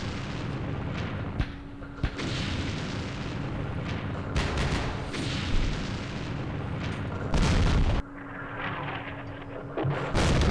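Artillery shells fire and burst in the Vietnam war strategy game Campaign Series Vietnam, a steady stream of booms and crackling detonations with a few sharper thuds, loud and unbroken, with no talking over it.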